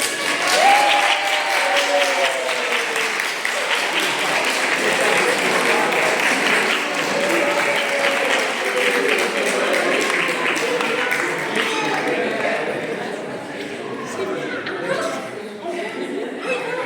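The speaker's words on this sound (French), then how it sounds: "Voilà, applaudissez." A congregation claps after a baptism in Ussel, a long, steady round of applause with chuckles and murmured chatter mixed in, and a voice speaking over it, before the clapping thins toward the end.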